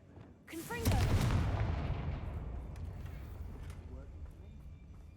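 Confringo fire spells blast in Hogwarts Legacy, a sudden loud boom with a crackling burst and a long rumbling decay, sharp game effects flickering over it while a voice talks through the clip.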